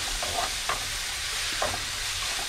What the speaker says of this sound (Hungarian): És elkezdjük összedinsztelni. Kicsit átpirítjuk az egészet,